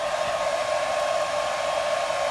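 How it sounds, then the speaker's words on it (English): A hair dryer blows steadily at close range, warming a rubber alloy wheel rim protector strip on a BMW 730, a constant whooshing whine with no variation and no talking. "So heat is very important. So take your hairdryer"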